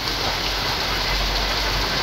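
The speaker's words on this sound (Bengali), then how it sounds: "বাইরে প্রচুর পরিমাণ বৃষ্টি হচ্ছে।" Heavy rain falls outside during Cyclone Remal, a dense, steady roar of downpour drumming on surfaces, loud and unbroken throughout.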